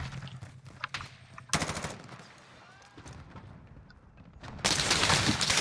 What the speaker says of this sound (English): Who's shooting at us? Taking heavy fire.